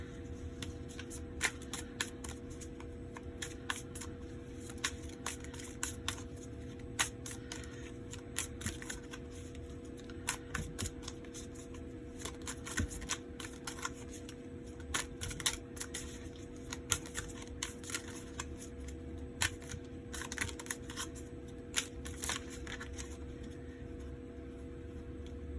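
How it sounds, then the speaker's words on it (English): Tarot cards being shuffled by hand, a steady run of soft riffling and slapping card sounds over a constant low hum, with no talking. "I'm about to shift these cards around."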